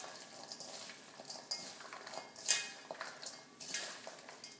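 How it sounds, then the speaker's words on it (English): A salad with whole basil leaves is tossed in a bowl, soft rustling and scraping strokes with a few sharper clinks of utensils against the bowl, close and quiet. "And I'm going to start to mix this up."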